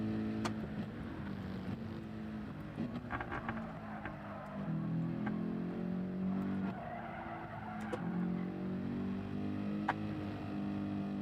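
A Gr3 race car at Spa in the Gran Turismo 7 video game holds a sustained engine drone. Tire squeal and skidding rise in the middle as it snaps into oversteer, with occasional sharp clicks.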